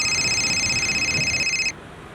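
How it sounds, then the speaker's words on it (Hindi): A telephone ringback tone on an outgoing call, steady tones ringing alone for under two seconds before cutting off abruptly. "इस नवीन को फोन लगा तुरंत"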